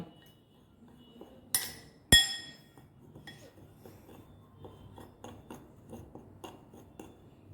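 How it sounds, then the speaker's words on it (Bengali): A spoon strikes a bowl with two sharp, bright clinks, then settles into a rhythm of softer taps and scrapes as semolina and cocoa powder are stirred together for a chocolate cake. The sounds are close and there is no talk. "তো এই ড্রাই ইনগ্রিডিয়েন্টসগুলো আমি আগে ভালো করে মিশিয়ে নেব।"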